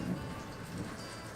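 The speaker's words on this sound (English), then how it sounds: "And it's already raining" Rain falls during Hurricane Irma, a faint, even hiss with scattered drops and no voices, brief and steady.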